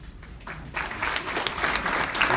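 Audience applause at a chamber of commerce breakfast debate between political candidates, starting quietly and swelling into steady, dense clapping that fills the room.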